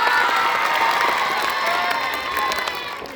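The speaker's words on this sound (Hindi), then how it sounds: "तालियां तो बजा दो एक बार।" Students at an inter college applaud and cheer together at a shayari-filled inspirational speech, a loud dense burst of crowd clapping with whoops that holds steady, then eases slightly near the end.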